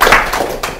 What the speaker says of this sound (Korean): 그럼 박수로 저희 강연 한번 들어볼까요?